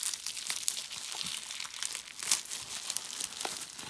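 Crinkly plastic packaging around trading card items crackles and rustles close by as it is unwrapped, a steady stream of small crunches and tearing crinkles with no talking.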